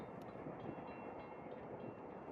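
A steady, broadband rumble of a passing Reading and Northern 2102 steam locomotive train in winter, continuous and fairly loud, with a dense mid-range roar and no voices.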